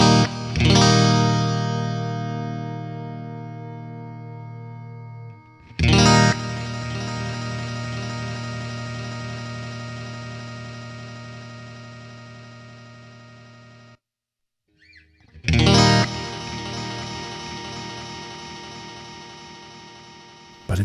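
An electric guitar played through a Strymon DIG delay pedal in digital mode: three sustained distorted chords, each left to ring and decay with trailing repeats, separated by short gaps and a brief silence before the last.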